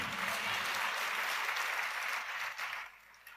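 Church congregation applauding a preacher, steady dense clapping from many hands filling the room, holding level for about two and a half seconds before thinning and tapering off.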